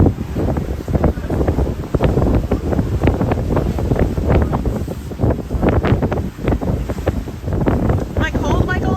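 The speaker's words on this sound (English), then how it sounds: "It's a little breezy because, of course, we're on a ship that's moving" Steady gusting wind buffets the microphone on the open deck of the moving Staten Island Ferry in New York, a loud, continuous rumble with faint water and boat noise beneath.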